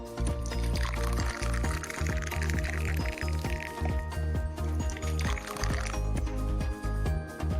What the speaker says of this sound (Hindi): ये पोरिंग जो है इफेक्ट जिसमें हम ग्लास में पानी वगैरह डालते हैं, तो वो इफेक्ट है